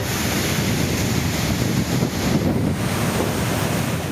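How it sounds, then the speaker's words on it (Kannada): Huge volumes of water surge from the broken crest gate of Tungabhadra Dam, a loud, dense, continuous roar mixed with heavy wind buffeting. "ಕ್ರಸ್ಟ್ ಗೇಟ್ ಚೈನ್ ತುಂಡಾಗಿರೋ ಪರಿಣಾಮ ತುಂಗಭದ್ರಾ ಜಲಾಶಯದಿಂದ ಲಕ್ಷ ಲಕ್ಷ ಕ್ಯೂಸೆಕ್ ನೀರು ಪೋಲಾಗ್ತಿದೆ"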